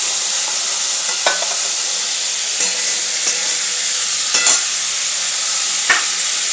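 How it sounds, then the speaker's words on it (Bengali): Chicken meat frying lightly in hot oil in a pan, a steady close sizzle and hiss with occasional stirring scrapes and taps, no voices. "মাংসটা আমি বেশি ভাজবো না, অল্প একটু ভেজে এটাকে আমি তুলে নিচ্ছি"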